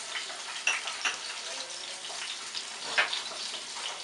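Tofu fries in a pan with a steady hiss and sizzle, punctuated by occasional sharper pops and spatters, moderately close in a home kitchen.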